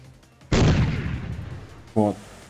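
In WinSPMBT, a tank's active protection system destroys an incoming missile with a sudden loud, sharp blast that rumbles away over about a second. A second, shorter metallic report follows soon after.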